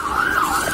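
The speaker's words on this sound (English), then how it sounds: "Did you hear those sirens?" A police siren wails, its rising and falling tone clear and fairly loud in a brief burst with no talking over it.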